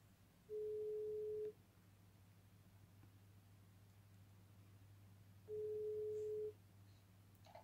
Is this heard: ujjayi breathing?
no